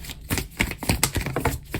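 A deck of tarot cards is riffled and shuffled by hand, quick irregular papery flicks and snaps close up, with no talking over them.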